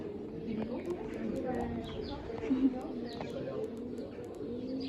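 Pigeons cooing on a farm, soft and continuous with faint chirps nearby, mixed under low background chatter.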